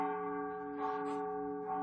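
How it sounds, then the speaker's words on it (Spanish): A church bell rings with a sustained, humming tone that hangs steadily throughout, quiet and somewhat distant, with no voices over it. "Escucha esa campana, escucha ese llamado."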